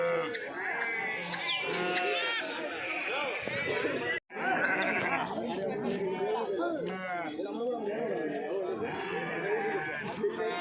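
Sheep and lambs bleat repeatedly at a busy weekly livestock market in Kadiri, with the calls mixed into steady crowd chatter and people talking close by throughout.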